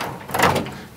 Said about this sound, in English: So just take the top drawer out of each side. It's just like any other drawer.